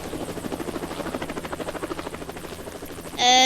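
A helicopter in a Roblox game flies over a zombie-overrun city, its steady rhythmic rotor thump droning close and even, then swelling into a brighter burst right at the end.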